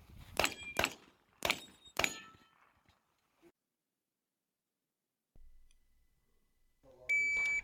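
Shots fired at steel targets during a shooting stage: four sharp, close reports, each ringing with a metallic clang, come in quick pairs. Quiet follows, then a faint thump and a short electronic beep.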